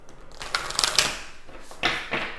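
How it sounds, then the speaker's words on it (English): Tarot cards shuffled by hand in a few quick crisp riffling bursts, close and clear, with short pauses between them. "I'm just gonna give it a good shuffle and then pull for you."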